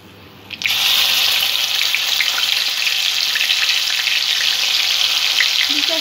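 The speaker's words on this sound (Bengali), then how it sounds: "দুটো চামচ পেঁয়াজ আদা রসুনের পেস্ট দিয়ে দিলাম। পেঁয়াজটা একটু ভেজে নেব।" Onion, ginger and garlic paste hits a hot pan over a low-to-medium gas flame and breaks into a loud, steady sizzle after a quiet start, continuing unbroken to the end.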